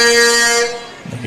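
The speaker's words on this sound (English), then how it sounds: "A big semi-truck giving a honk to the crowd." A single loud, deep air horn blast from a semi-truck in a parade rings out close by, holding steady before fading away.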